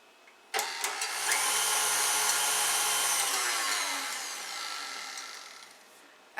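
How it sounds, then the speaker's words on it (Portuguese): A stand mixer whips egg whites to firm, stiff peaks, a steady high whirring drone that starts abruptly, holds for several seconds, then eases off before a clunk at the end; no voices. "Na batedeira eu vou colocar as claras e vou bater em ponto de neve"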